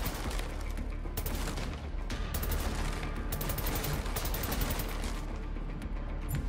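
Rocket launcher and gunfire from the Wolfenstein: The New Order video game come as a dense, continuous barrage of overlapping blasts and rapid shots under a loud, noisy game mix, with no talk.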